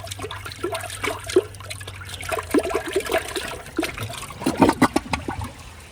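A Glacier Bay high efficiency toilet from 2017 flushes weakly with the handle held down, giving a gurgling trickle of water that swells into a louder slosh near the end, close up and without talk.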